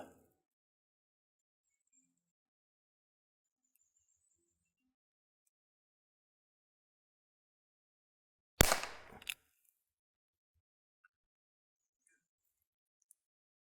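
A .32 H&R Magnum round fired at a steel target, heard as a loud burst with a short cluster of sharp reports and ringing, set apart by long quiet stretches.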